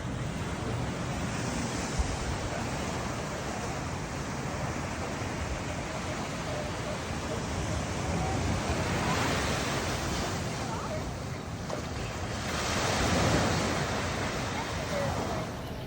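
Underwater hydrophone at La Jolla Cove with two hydrophones spaced a meter apart, catching a steady dense wash of ambient ocean noise with slow swelling surges like snorkel breathing, continuous and moderately loud, no talk.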